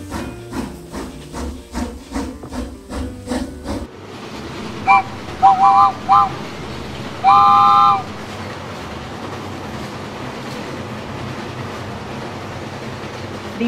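Cartoon train departing in a children's animated song about shapes: a rhythmic chugging for several seconds, then steady steam hiss with a few loud whistle toots over it, continuing as a constant rushing noise.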